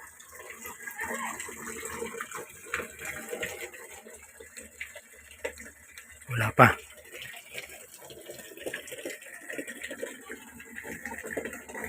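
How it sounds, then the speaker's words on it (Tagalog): Water from a supply line runs into a tank in a steady, moderate hiss, with a brief louder splash midway and people talking softly over it. "kung mapapansin ninyo may supply na ng tubig sa tangke"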